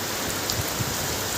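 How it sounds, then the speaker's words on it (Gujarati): Heavy monsoon rain in Junadisa comes down in a dense, continuous hiss of drops on surfaces, loud and steady throughout with no voices. "આ માજણનો વિડીયો છે અને વરસાદ બહુ ચાલુ છે ઘણો."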